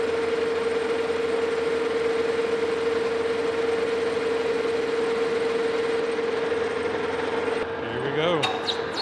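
Metal lathe chamfering the edge of a steam locomotive valve rod, a steady mechanical whir with a sustained tone from the running machine, changing near the end as the spindle slows and a few short clicks follow.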